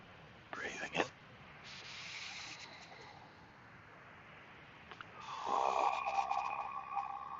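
Someone draws slow, audible breaths during a breathing exercise: a short airy inhale, a quieter breathy stretch, then a longer, louder hissing breath with a voiced tone at the end.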